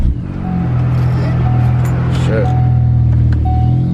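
A Ford Focus ST fitted with a hybrid turbo idles as a loud, steady low rumble close by, with a brief voice over it.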